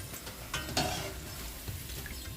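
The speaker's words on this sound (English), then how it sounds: "so you'll see how fast it's fried. Once your oil is super hot, you don't have to leave it in there long." Trinidad doubles dough frying in very hot oil, a steady crackling sizzle with a few brief clinks and stirring movements from the pan.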